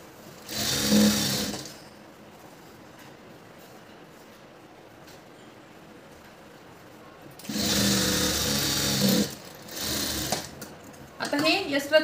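Sewing machine stitching a blouse seam, running in two loud bursts of rapid mechanical whirring, about a second and then nearly two seconds, separated by quiet handling sounds, with a short further run and rustling near the end.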